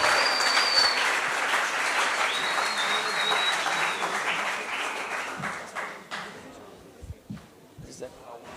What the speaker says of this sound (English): Round of applause for Claudio and Ashley